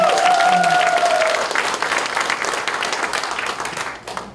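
An audience of small-business owners at a political party workshop claps, the applause loud and continuous, with a brief whistling feedback tone over the start before it gradually thins out.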